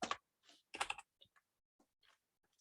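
Keys are struck on a computer keyboard in short separated bursts, a few quick clusters then lighter isolated taps, close and clean against near silence.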